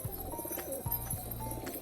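A pure Bangladeshi red pigeon coos nearby, giving two or three low, throaty coos over faint background noise with no speech.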